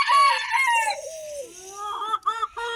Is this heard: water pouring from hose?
no